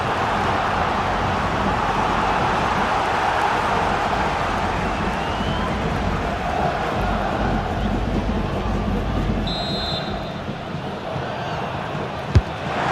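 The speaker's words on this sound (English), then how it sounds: "the crowd is certainly trying to motivate the players to get the equaliser" Stadium crowd in a Real Madrid versus FC Barcelona football video game, a loud, sustained roar of cheering fans filling the whole stretch, with a commentator's voice heard faintly.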